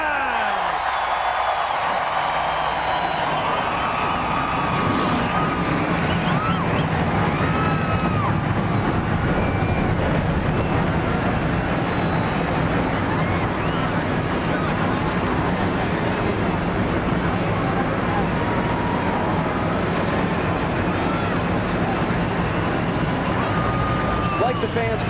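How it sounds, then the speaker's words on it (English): A dense, continuous roar of 43 800-horsepower stock car engines at the start of the 2004 NASCAR Chevy Rock & Roll 400 fills the air, pitches rising and falling, mixed with a loud, cheering crowd. "the sound of those 43 800 horsepower engines just raised the adrenaline a whole new level"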